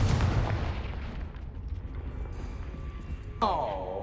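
A Confringo explosion spell goes off in the video game Hogwarts Legacy, with a dense blast of rumbling impacts up front, then a sharp burst near the end followed by a ringing, falling magical tone.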